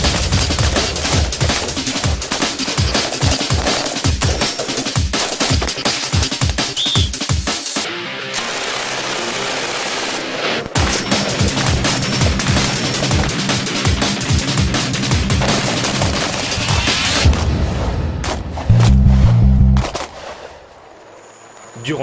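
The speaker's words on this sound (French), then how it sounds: "on prépare un petit tir de réglage d'armement. Mon arme de dotation, c'est le FAMAS et mon arme de poing, c'est l'USP." A FAMAS rifle and USP pistol fire during a weapon zeroing session at a commando training range, loud sharp shots in rapid bursts and single reports echoing back to back, with a brief lull before the firing resumes.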